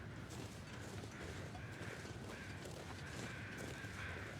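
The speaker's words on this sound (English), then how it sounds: "That sounds like 2 sets of crows." Crows cawing near a deer carcass in the wilderness survival game The Long Dark, repeated harsh calls from what seem to be two groups, set against a dense, steady wind-like background.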